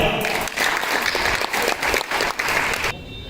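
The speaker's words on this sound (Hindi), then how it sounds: "तालियां" Applause from an audience at a school Diwali celebration in Goa, a dense burst of clapping that pulses for about three seconds and then cuts off.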